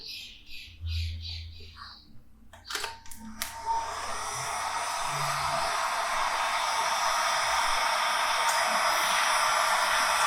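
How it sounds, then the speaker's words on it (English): Heat gun blowing hot air over a freshly painted base coat, starting after some brief handling clicks and rising into a steady, loud rushing hiss that continues alone to the end. "Back to the heat gun."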